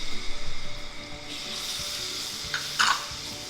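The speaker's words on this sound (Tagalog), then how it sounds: "You heat the pan and then put in the oil. Then you have garlic." Garlic drops into hot oil in a heated pan, starting with soft stirring clatter, then a steady sizzle that swells with a couple of brighter crackling bursts near the end, close and without talk.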